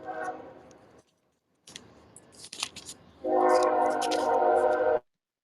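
A train horn sounds in the background during a scripture reading, a loud sustained blast lasting nearly two seconds after scattered clicks and faint noise.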